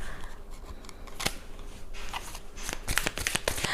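Tarot cards being shuffled by hand: a dry run of papery riffles and slaps, louder bursts toward the end, close up and alone with no talking.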